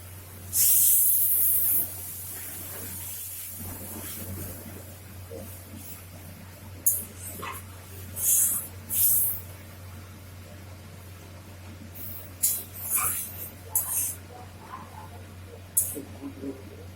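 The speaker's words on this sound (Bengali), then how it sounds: "দেখো জল ঢেলে দিচ্ছি" Water poured into a pan of sizzling curry masala bursts into a loud hiss that fades into a bubbling simmer, followed by intermittent scraping and further hissing spurts.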